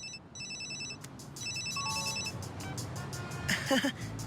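A cell phone ringtone plays a bright, repeating electronic melody over a noisy background, with a brief voice-like sound near the end.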